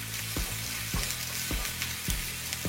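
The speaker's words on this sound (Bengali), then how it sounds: "শুকিয়ে গেলে তেল ঢেলে দিব, আধা বাটা পেঁয়াজগুলো দিয়ে দিব এবং ভালোভাবে নাড়াচাড়া করে নিব।" Half-ground onions frying in oil in a pan for a Bengali rui fish curry, a steady close sizzle broken by regular spatula scrapes about every half second.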